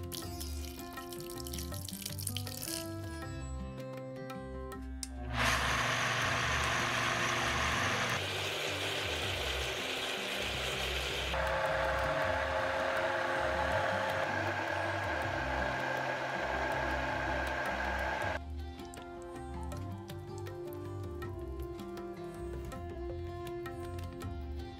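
A mixer grinder grinds rice that was soaked in water for six hours, with a little water added, for idiyappam batter. A loud, steady whirring roar runs for about thirteen seconds and shifts in pitch partway through, with music before and after.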